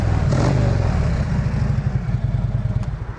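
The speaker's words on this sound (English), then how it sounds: "Bike runs great, no engine noise." A Harley-Davidson Street Glide FLHX trike's engine runs at a steady idle, its loud, low, continuous rumble carrying a faint rhythmic clatter. No voices or other sounds intrude.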